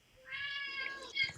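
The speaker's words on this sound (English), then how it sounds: "Sorry, that's my cat." A house cat lets out a single drawn-out meow, rising and then breaking into a short second note, fairly close and alone in a quiet room.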